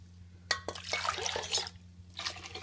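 Water poured from a vessel into ground wheat in a cooking pot, a short splashing, gurgling pour in a couple of bursts over a low steady hum, fairly quiet and close.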